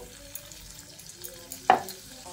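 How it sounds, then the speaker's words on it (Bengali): Luchi puffed flatbreads deep-frying in plenty of hot white oil give a soft bubbling sizzle, then a sharp loud burst of hissing spatter as dough drops into the oil, close by with no talk. "পর্যাপ্ত পরিমাণে সাদা তেল আমি গরম করে নিয়েছি। এবার এই লুচিগুলো দিয়ে দিচ্ছি।"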